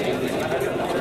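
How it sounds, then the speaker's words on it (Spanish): Racing pigeons being released at a pigeon race event, a dense rush of flapping wings and cooing amid crowd chatter, loud and continuous for a moment. "Yo ya eché las palomas"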